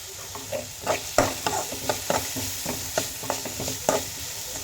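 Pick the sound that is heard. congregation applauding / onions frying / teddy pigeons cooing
onions frying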